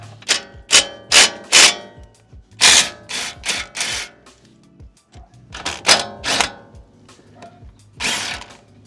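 Ratcheting wrench work on a rear suspension bolt of a BMW G20 330i during a Bilstein B4 rear shock replacement, with bursts of clicking ratchet strokes in quick groups and short pauses between, close and fairly loud.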